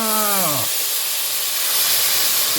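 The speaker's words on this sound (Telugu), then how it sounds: "ఇప్పుడైతే చింతపండు నీళ్ళు అయితే వేసుకుందామండి." Tamarind water poured into a hot pan while making tamarind rice bursts into a loud, close steamy hiss that holds steady after a brief rising whine at the start.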